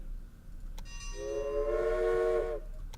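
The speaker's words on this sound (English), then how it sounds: "And then we're going to run another train." A train running in the Railway Empire video game: a steady low rumble with a sustained, bright whistle-like tone rising in the middle and fading near the end, moderately loud, no voices.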